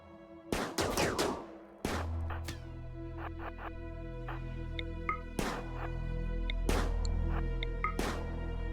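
Gunfire from colonists shooting big zombies in the video game RimWorld: several sharp, loud shots at irregular intervals, a couple in quick clusters, over a steady droning game background with no talk.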